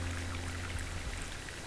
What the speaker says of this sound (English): Oops, leaking water.